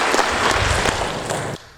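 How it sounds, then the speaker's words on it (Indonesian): Brief burst of dense audience applause at a church gathering, loud and close, cutting off abruptly near the end. "Kita berikan tepuk tangan."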